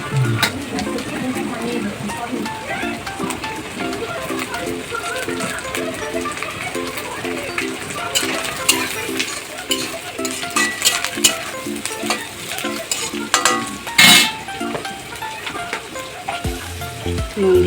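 Onions and chopped chillies frying with capsicum and carrot in a pan for chow mein, a steady close sizzle with stirring scrapes throughout and a voice talking over it.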